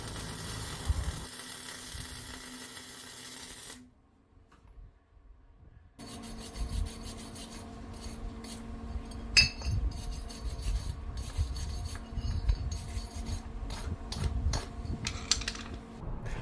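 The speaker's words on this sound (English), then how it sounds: "I am welding these DOM pieces together." Flux core welding on DOM steel tubing pieces gives a steady crackling, sizzling hiss with a brief pause, then continuous rough sputtering with scattered pops, close and fairly loud, with no talk.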